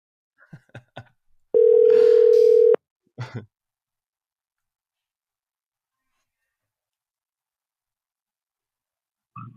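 A telephone call tone sounds as one long steady electronic beep lasting about a second. A few short clicks and breaths come before it. Then there is a long silent wait, and a faint sound returns at the very end.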